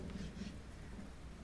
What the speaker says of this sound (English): Thunder crackles high overhead as the raindrops strike the hard floor in rapid succession.